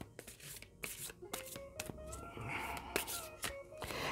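A new tarot-style deck is shuffled by hand, making soft, close riffles and quick flicks with a few crisp taps as the cards slide together, quiet and alone.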